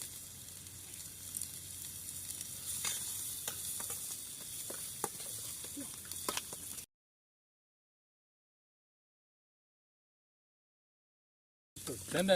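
Butter sizzling in a pan while biriyani cooks outdoors at a riverside campsite, a steady close frying hiss with scattered pops and stirring clicks, cutting to silence partway through before resuming.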